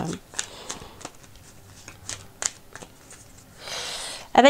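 A Petit Lenormand card deck is cut and shuffled by hand, giving soft riffling and a sharper burst near the end, close by, while a person talks over it.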